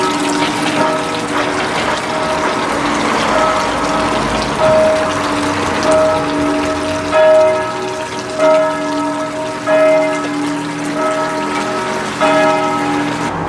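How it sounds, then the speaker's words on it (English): A town bell tower rings a slow series of bell strikes, mid-distance and steady, over a constant rush of water or pump noise at a neighborhood walk. "It may simply be the town's bell tower"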